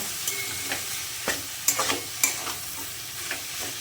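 Spices and soybean being stir-fried in a hot pan, a soft continuous sizzle broken by several sharp scraping strokes of the spatula at irregular intervals.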